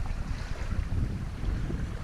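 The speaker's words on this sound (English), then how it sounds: "It's windy." Wind buffeting a microphone on the shore of Qatar's Inland Sea during a shore jigging trip for kingfish, a steady low rumbling gust noise that fills the whole clip, close and fairly loud, with possible water movement underneath and no talk.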